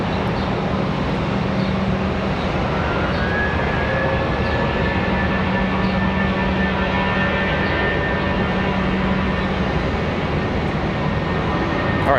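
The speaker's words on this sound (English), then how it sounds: "that 777's headed off to Munich" A Boeing 777 airliner takes off from runway 18 at Charlotte Douglas International, bound for Munich, its steady engine roar loud and continuous with a rising whine held throughout.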